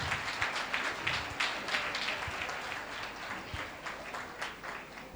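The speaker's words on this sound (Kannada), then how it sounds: "ನಮ್ಮ ಮಕ್ಕಳಿಗೆ ಒಂದು ಸುಂದರವಾದ ಚಪ್ಪಾಳೆ ತಟ್ಟಬೇಕು" A congregation at a church's children's event claps for the kids, a dense, steady patter of many hands at moderate distance with no voices over it.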